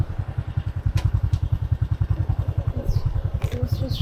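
Motorbike idling as it is parked on a rural road in Vietnam's Central Highlands, a close, steady thumping engine putter with a few clatters and knocks near the end.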